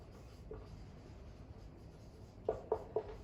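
Pen or chalk writing out the general term of a binomial expansion, faint scratching with a few sharp taps near the end, quiet room with no talk.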